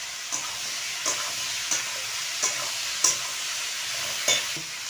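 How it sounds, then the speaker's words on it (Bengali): Chopped Malabar spinach stems fry in hot oil with salt for a Bengali mixed-vegetable curry, giving a steady close sizzle broken by regular stirring scrapes about every second, with no talking. "এবার আমি পুঁই শাকে ডাটা কাটা দিয়ে দেব।"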